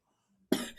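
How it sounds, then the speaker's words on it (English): A single harsh cough bursts out abruptly after near silence, close and sharp, trailing off quickly. "The force of her own voice makes her erupt into coughing."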